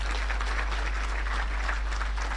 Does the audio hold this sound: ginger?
no